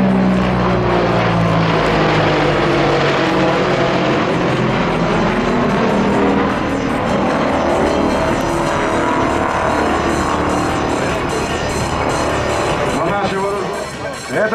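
A heavy military transport aircraft roars past at an air show in Zhukovsky, a loud, continuous engine rumble filling the whole stretch, with a commentator talking over it.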